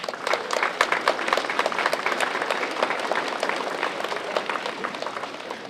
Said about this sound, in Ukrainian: Оплески вам всім!